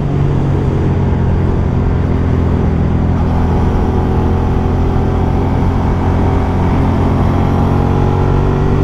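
A motorcycle engine drones loudly and continuously while riding on a road through curves, a dense steady rumble with slow shifts in pitch and no voices over it.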